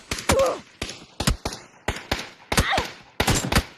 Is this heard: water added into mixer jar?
no